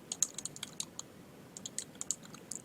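Keys clatter on a computer keyboard in two quick bursts of typing separated by a short pause, light close clicks over a quiet background.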